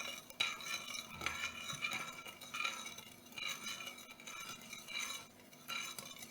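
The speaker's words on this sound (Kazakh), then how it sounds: "Араластырамыз." A spoon stirs sugar into warm milk in a bowl for homemade bun dough, making a steady, continuous scraping and clinking with rhythmic swells. The sound is close and moderately quiet, with no talking.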